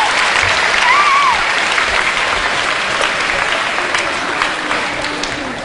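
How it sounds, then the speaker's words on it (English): Sustained applause from a large audience at a motivational talk, loud, dense and steady throughout, with faint crowd noise beneath and no speech. "Give him a round of applause"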